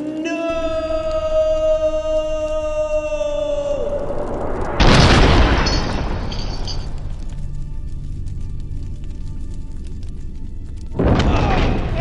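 Gunfire in the video game Counter-Strike: two loud, sharp booming shots about six seconds apart, the first following a sustained electronic tone, with a quieter rumbling background in between.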